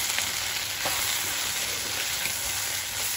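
Soya chilli frying in a pan as turmeric, coriander powder, salt and red chilli powder are mixed in, giving a loud, dense, continuous sizzle with faint stirring scrapes, close up and without talk.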